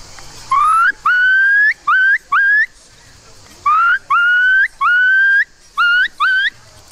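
A person whistles an imitation of a curlew call at a hunting festival: seven loud, clear rising whistled notes in two groups of four and three, each note gliding upward, close and alone with no talk.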